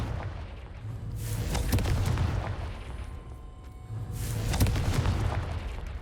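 Confringo spell blasts in Hogwarts Legacy: two heavy, booming explosions a few seconds apart, each with a rumbling low roar and crackling debris tail, loud and close.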